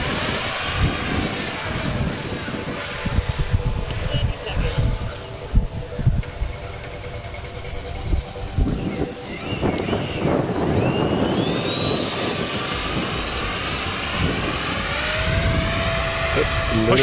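An FMS Rafale 64mm RC jet flies overhead, its high whine rising and falling in pitch as it passes and then climbing again near the end, with people talking throughout.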